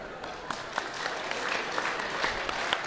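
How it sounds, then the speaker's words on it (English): An audience at a Sunday Assembly gathering in Los Angeles claps together, a steady patter of many hands with a few sharper claps standing out, fairly soft and a little distant. "I want you to start clapping."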